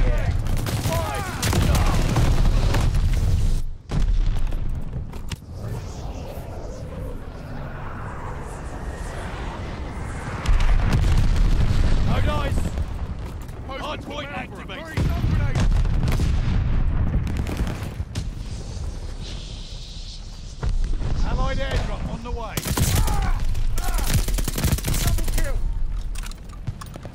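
A Call of Duty: Vanguard match with a glide bomb strike and gunfire: loud booming blasts and bursts of shooting come in heavy waves, broken by brief quieter gaps, with game announcer voices speaking throughout.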